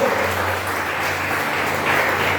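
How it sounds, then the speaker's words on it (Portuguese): Steady, continuous applause from a church congregation at a worship service, a dense even wash of clapping filling the room with no voices over it. "As palmas do Senhor."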